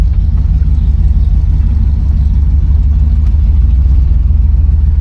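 A 1975 Buick LeSabre convertible engine while driving, a loud steady low rumble heard from inside the car with no talking.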